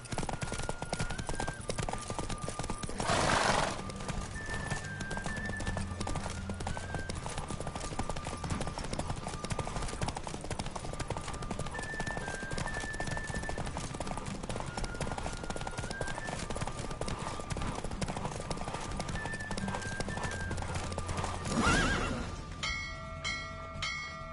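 A horse gallops in a race in The Witcher video game, rapid hoofbeats drumming steadily throughout over game music, with brief swells of noise and faint voices.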